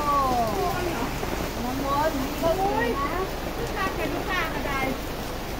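Steady rain pours on a wet day at a roadside grilled sticky-rice stall in Thailand, a dense, constant hiss filling the background while someone talks over it.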